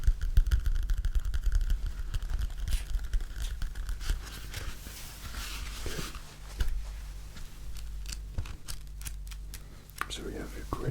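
Sheets of grid paper and other stationery handled up close, with crisp rustling, sliding and crinkling textures, soft and intimate, alongside quiet whispered talk.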